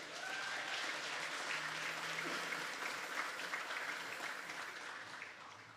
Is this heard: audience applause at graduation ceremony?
yes